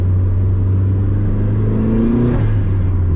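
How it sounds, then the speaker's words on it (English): A turbocharged Mazda MX-5 engine drones loudly from inside the cabin, its pitch rising as it revs up, then dropping back to a steady rumble. "Don't know if you can hear all them wonderful engine noises on camera"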